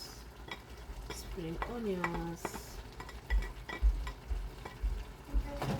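Spring onions fry in a large pot while being stirred, a low steady sizzle with scraping and clinking of a utensil against the metal, close by, with a brief faint voice-like tone near the middle.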